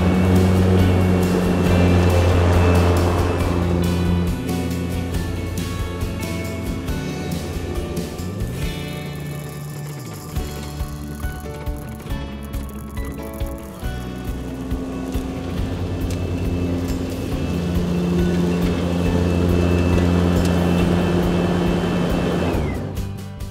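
EGO zero-turn battery ride-on mowers running steadily as they mow grass, a continuous close motor and blade drone with low hum throughout and small bumps and variations.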